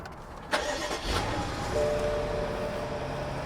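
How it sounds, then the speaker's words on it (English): A V8 car engine cranks with a click and a short whir, then catches and settles into a deep, steady idle rumble. "Sounds like a V8."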